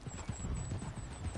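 Horse hooves in Red Dead Redemption 2, a steady rhythmic clip-clop of a trotting horse close by, several quick hoof beats in sequence with no talk.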